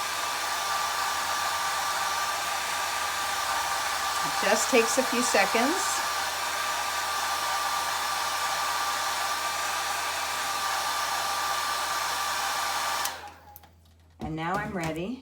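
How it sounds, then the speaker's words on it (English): A hair dryer blows steadily and loudly for several seconds, drying paint on a painted rock, with a brief spoken remark partway through, then cuts off and restarts near the end. "I just dry it with the hair dryer"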